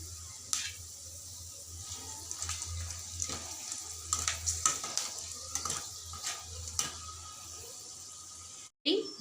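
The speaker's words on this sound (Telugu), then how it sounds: "అందులోనే కొంచెం జీడిపప్పు, కరివేపాకు, ఒక ఎండుమిర్చి వేసి లైట్గా వేయించుకుందాం." Cashews, curry leaves and a dried red chili sizzling lightly in oil left over from frying crispy corn, a soft steady crackle with scattered pops and stirring, fairly faint and close.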